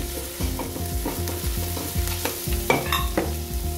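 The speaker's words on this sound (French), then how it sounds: "Et là, on tourne, on mélange" Tomato is stirred into rice with carrot, vegetables and beef in a pan, giving a close, rhythmic series of scraping and knocking strokes over a constant low sizzle.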